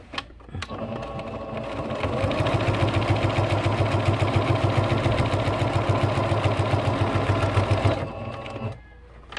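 A sewing machine runs in one steady stretch of rapid, even mechanical stitching with a low motor hum, close and fairly loud, starting and stopping abruptly, no talk.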